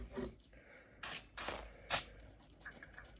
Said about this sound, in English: Let's spray some stuff on it first. See if it's leaking around this plastic cover or our fitting.